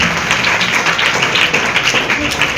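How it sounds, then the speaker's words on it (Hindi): A church congregation claps loudly during a live testimony service, a dense, steady wash of many hands that fills the whole moment without a break. "खुदावन के लिए जोरदार तालियां बजाएं"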